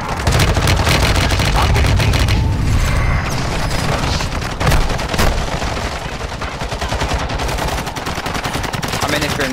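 Dense automatic gunfire barrage from Warzone 2 with an M13 assault rifle, loud and near, with booming impacts running almost continuously and voices talking over it.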